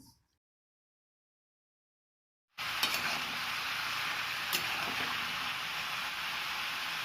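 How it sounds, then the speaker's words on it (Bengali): Mustard paste hits a hot pan after a brief silence, bursting into a loud, steady sizzle with a couple of sharp utensil clicks, close and continuous, no voices. "প্রথমে সর্ষে বাটা দিচ্ছি"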